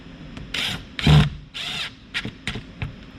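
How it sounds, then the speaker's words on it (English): A screw being threaded back in by hand during a sound treatment install in a Ford F-Series truck: close bursts of grinding, ratcheting turns with short pauses, then a few sharp clicks and taps. "So just thread that screw back in there."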